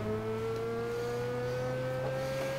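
Steady engine drone of a car cruising along a motorway in the racing game Test Drive Unlimited 2, a continuous mid-pitched hum with a faint rising tone, loud and close with no talk.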